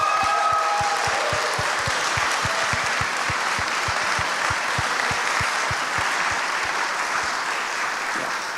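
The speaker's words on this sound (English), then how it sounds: "So a big applause for them, everyone." Sustained applause fills a live horror game awards show, dense rapid clapping from the audience held at steady loudness throughout.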